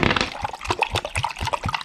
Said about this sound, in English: and pour in our water.